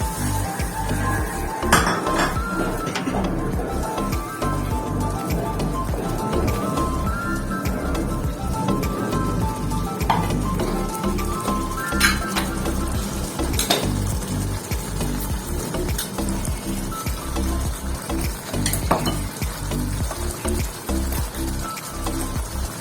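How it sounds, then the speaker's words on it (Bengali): Ground coriander, chili and turmeric stirred and cooked in a pan for a vegetarian shahi paneer, with steady scraping, clinking utensil taps and a soft sizzle running throughout at close range. "এগুলো দিয়ে আমি ভালো করে কষিয়ে নিচ্ছি।"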